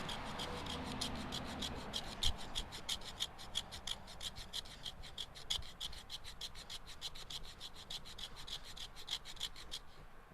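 Morakniv Craftline Q 510 knife shaving fine curls from resinous fatwood: rapid, regular rasping scrapes in a steady back-and-forth rhythm, close and fairly quiet, continuing for several seconds with no talking.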